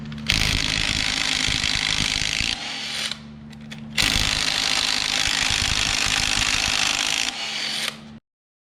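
Power tool work pulling the harmonic balancer off a crusty Cummins diesel engine: two long bursts of loud whirring ratcheting, split by a short pause with a few clicks, then stopping abruptly.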